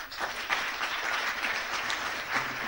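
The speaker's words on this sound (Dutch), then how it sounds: "Een applaus voor Raymond." Applause for Raymond at a community gathering in Vlissingen, a steady crowd of clapping hands that fills the room at an even level, with no speech over it.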